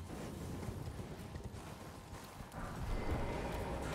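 Horse hooves in the video game Elden Ring drum in a fast, continuous patter under a dense wash of game noise, steady and fairly faint throughout, with no voices.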